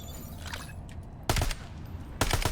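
MXR rifle gunfire in Call of Duty Black Ops 7: two close, loud bursts of rapid automatic shots, separated by a quieter gap of game ambience.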